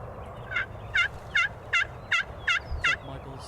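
Wild turkeys gobble during a Wisconsin spring hunt, seven distinct rattling gobbles in a steady rhythm, fairly close and clear over a quiet background.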